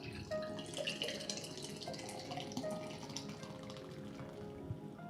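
A drink pours into a glass nearby, a continuous splashing trickle with small drips and bright glassy ringing over about five seconds, with no talk.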